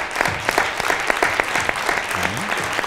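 Applause at a film tribute ceremony in Lausanne: a crowd claps in a steady rhythm, with a few distinct loud claps standing out near the listener.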